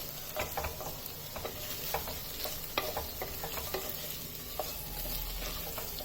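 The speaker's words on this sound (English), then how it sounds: "allow it to saute for a while" Onions sautéing in a pan for a Tamil Nadu-style veg biryani: close, soft frying sizzle with scattered scrapes and clicks of stirring at an irregular rhythm, and no talking.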